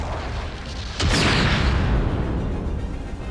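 A 180mm cannon firing in the video game Gundam Battle Operation 2: one loud, heavy boom about a second in, leaving a long rumbling roar that sits over steady background game noise.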